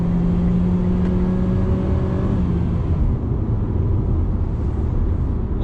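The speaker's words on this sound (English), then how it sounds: "if you're really hammering the throttle, pushing the engine all the way to the red line" A Mitsubishi Xpander's 1.5-litre engine is pushed hard toward the red line, a loud, steady in-cabin drone whose pitch climbs and then drops as it changes gear, with no talking.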